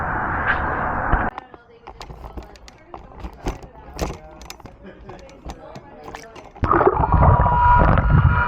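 A Hydro 3S cordless robotic pool vacuum runs underwater, a muffled churning hum broken by gurgling bubbles and knocks as it climbs and drops off a pool step, the motor droning louder at the start and end.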